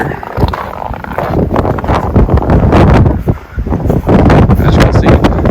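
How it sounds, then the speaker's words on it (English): Strong wind gusts buffet the microphone in loud, rough bursts outdoors on a snowy day after a blizzard. "It's still windy today, but the sun is out."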